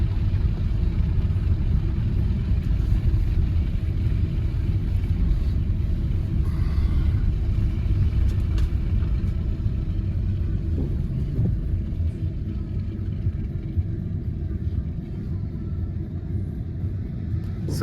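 Car rolling slowly down a snowy hill in Santa Fe, a steady low engine and road rumble heard from inside the cabin, continuous and even throughout with no talking.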